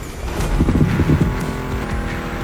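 Racing cars in The Crew Motorfest, an American muscle Mustang event: loud, close engine revving with a rising, wavering pitch, tire noise and music underneath.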